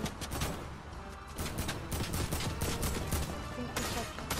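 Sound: gunfire in video game Fortnite

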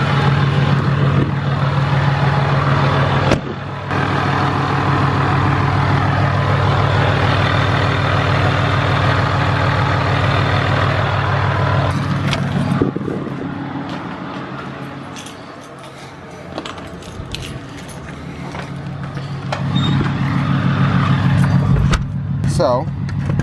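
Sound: gear rollover noise of 2017 Cummins diesel truck with dual disk clutch

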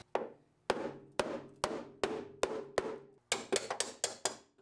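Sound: chisel hammered into car frame rail metal welds

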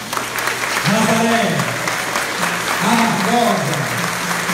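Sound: congregation applause in church

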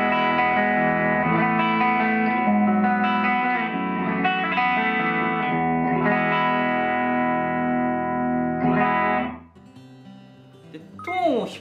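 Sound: Suhr Pete Thorn Signature electric guitar, rear pickup tone

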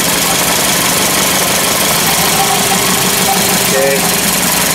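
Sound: CAT forklift engine idling with a shorted coil unplugged, RPM dropping

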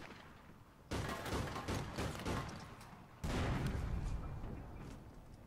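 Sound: explosions in video game APB: Reloaded

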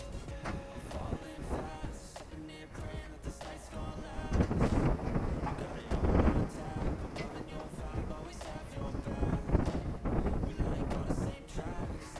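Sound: wind blowing

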